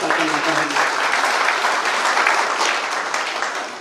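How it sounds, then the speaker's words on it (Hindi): A crowd at a school safety training session applauds to welcome guests, a dense, steady burst of clapping that fills the room throughout and tapers slightly at the end, with some voices murmuring underneath. "तालियों की गड़गड़ाहट से हम अपने अतिथियों का स्वागत करना चाहेंगे"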